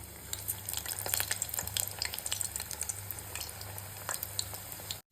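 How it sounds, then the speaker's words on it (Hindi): Laung lata sweets frying in oil over a low gas flame, a close, steady sizzle with scattered crackles and pops that runs throughout, then cuts off abruptly at the end. "चलिए इन्हें भी हम फ्राई कर लेते हैं।"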